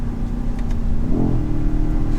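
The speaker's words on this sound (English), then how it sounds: "You hear that exhaust?" A 2023 BMW XM SUV on a mountain drive idles with a steady, loud exhaust drone that swells briefly into a rev about midway, then settles back to a low rumble.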